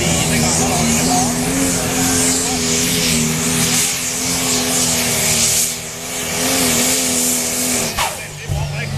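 A pulling tractor roars at a high, steady pitch during a tractor pull run in Norway, then eases off near the end. A commentator talks over it throughout.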